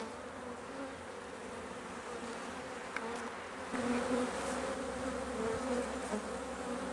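Dense, continuous buzzing of many honey bees close by in an open, packed brood box, a low droning hum that swells slightly louder midway.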